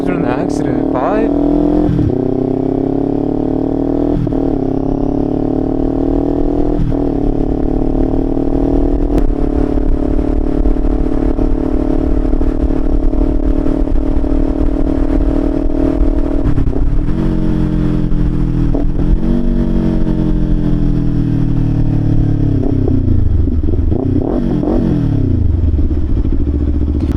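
A Kawasaki Ninja 500 motorcycle with an aftermarket exhaust drones loud and close while being ridden, rising and falling through throttle changes and gear shifts, with strong wind roar and brief spoken comments over it.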